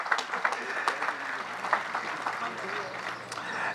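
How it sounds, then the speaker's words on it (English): Applause at a Berkeley Institute graduation ceremony for the class of 2024, a steady crowd of clapping hands in a large gathering, continuous and fairly even, with faint voices mixed beneath it. "Let's give her another round of applause."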